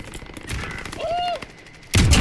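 Bursts of close gunfire in Call of Duty Warzone, loud rapid shots that pause briefly and then return in a heavy volley at the end, with no talk.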